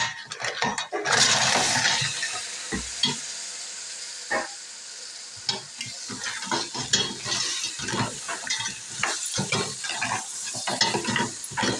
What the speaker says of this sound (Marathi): आता हे मिक्स करून घेऊया आता याच्यात आपण खेकडे टाकून घेऊया